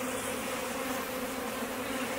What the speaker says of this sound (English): As many bees as there are in here.